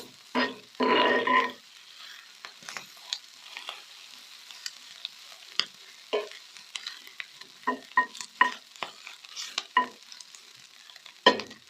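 Sisig with pork fats frying in splattering oil as it is stirred in the pan, giving bursts of loud sizzling and crackling with scattered pops and utensil scrapes.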